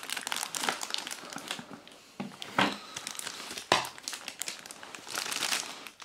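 Cardboard and plastic packaging crinkle and rustle up close while a Kinesis Freestyle 2 numeric keypad is unboxed from a plain box, in quick irregular bursts with a few sharper crackles.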